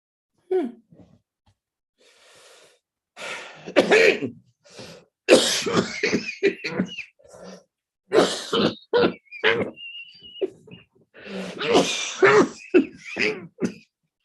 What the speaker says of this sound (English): The cough I cannot help.